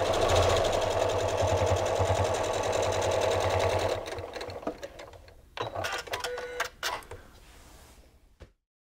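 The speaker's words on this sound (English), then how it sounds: "so I top stitched it along here" A sewing machine top stitching a pocket tissue holder runs in a steady, loud whirring buzz for about four seconds, then stops into scattered clicks and handling sounds near the microphone.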